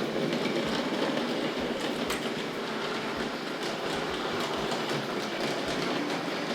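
A Tri-ang R.152 model diesel shunter runs with tank wagons, giving a continuous whirring motor hum and steady clicking of small wheels over track joints, close and even throughout.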